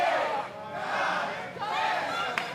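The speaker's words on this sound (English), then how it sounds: "this crowd counting to 10 and beyond" A crowd at an indie wrestling show in Texas chants a count in unison while the referee is down, loud and sustained voices swelling and dipping through the whole stretch.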